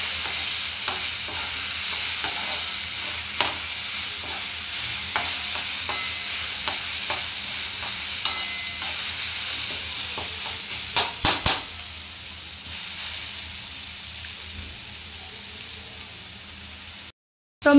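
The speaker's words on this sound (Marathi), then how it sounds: "टोमॅटो व्यवस्थित परतून घ्यायचा आहे, छानपैकी भाजून घ्यायचा आहे" Tomatoes and spices frying for chicken kheema, with a steady close sizzle and a spoon repeatedly scraping and stirring the pan, plus a quick cluster of metallic clinks near the end and no talking.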